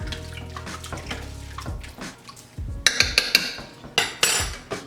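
A spoon scrapes and clinks against the inside of a crock pot as soup is stirred, with liquid sloshing and a cluster of sharper clinks near the end, close by and with no talking.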